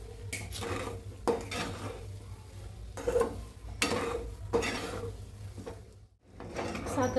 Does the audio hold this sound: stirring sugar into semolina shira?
yes